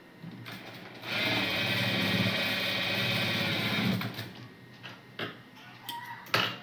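Sewing machine running a straight seam along a baby frock's lining, a steady close mechanical whirr of rapid stitching lasting about three seconds, then stopping into a few scattered clicks and handling sounds.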